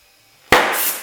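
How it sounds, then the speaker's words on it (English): A motorcycle front tire bead pops into place on the rim during inflation: one sharp, loud thump close by after a quiet lead-in, with a brief hissing tail of air. "beads popping might scare you a little bit. It's nothing to worry about. You should hear a good solid thump from both sides"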